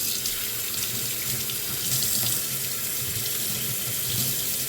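Tap water runs steadily into a sink over a raw duck breast, a close, even splashing hiss with slight shifts as the meat moves under the stream; no voices.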